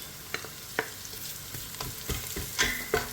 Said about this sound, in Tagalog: Igisa lang natin lahat.